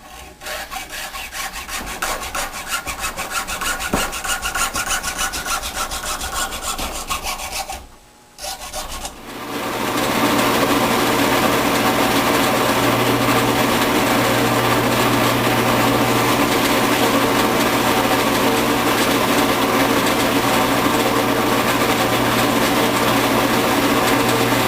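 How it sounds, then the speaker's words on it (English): A wooden bearing block for a wind-powered cart is being made. A steady rasp of sawing and rubbing on wood runs first, then after a brief pause a loud, continuous machine whine and grind, like drilling, carries on. "I've cut out the bearing block and I've drilled the two holes for the frame and for the bearing"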